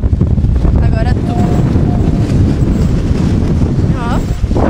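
Strong wind buffets the microphone outdoors, a loud constant roar with brief whistling tones, while people speak and exclaim over it.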